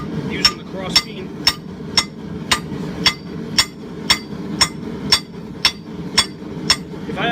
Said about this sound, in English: we're just going to keep spreading the cheeks of the hammer using the cross beam